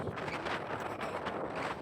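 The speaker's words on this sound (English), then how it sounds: "It's a little windy." Wind gusts across open Badlands terrain, a steady broadband rush buffeting the microphone with uneven surges, with no voices heard.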